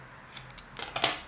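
Scissors snip crochet yarn close to the ear, several quick crisp cuts in an uneven series with the last snip loudest, no voices over them.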